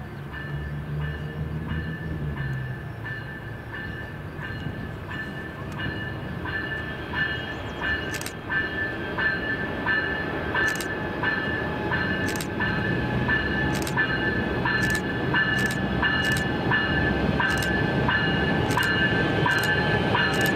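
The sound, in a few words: Canadian National freight train passing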